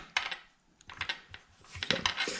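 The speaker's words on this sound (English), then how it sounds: "cutting with the scissors." Scissors snip through string while someone crafts a one-handed guitar pick, a few close, sharp metallic clicks and snips in irregular succession.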